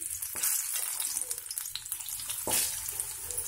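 Corn kernels fry in hot oil for a crispy snack, giving a loud, continuous sizzle and crackle close up with a few sharper spits, and no talking.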